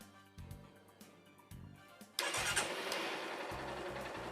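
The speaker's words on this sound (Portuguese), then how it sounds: "Ligue o motor." Motorcycle engine starting, a few short cranking bursts, then the engine catches with a sharp jump in loudness and settles into a steady, close idle.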